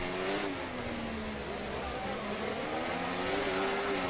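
A Ferrari Formula 1 car screams through the streets of Monaco in F1 24, a steady high engine whine with rising and falling pitch as it revs, heard faintly beneath brief talk.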